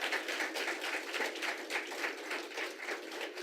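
Steady applause from a debate audience for two congressional candidates at a televised Arkansas 4th District GOP primary debate, dense sustained clapping throughout with no voices over it.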